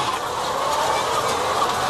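Hens clucking inside a crowded egg farm barn, a dense steady chorus of many birds at even loudness, with no individual call standing out.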